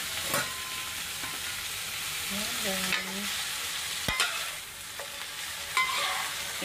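Ampalaya, or bitter gourd, frying in a pan, a constant bright hissing sizzle with occasional clinks and scrapes of a spatula, no voices.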